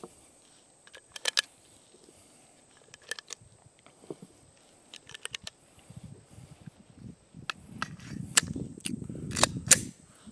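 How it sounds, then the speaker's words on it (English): Personal concealed-carry handgun firing at a range: sharp, distant-sounding shots in scattered pairs and short strings, with brief bursts of rustling and handling noise in between. "See how this gun's gonna run again."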